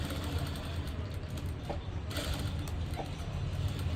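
A sewing machine stitches a blouse in a steady, continuous mechanical whir with faint clicks, running close and at an even level throughout with no talking.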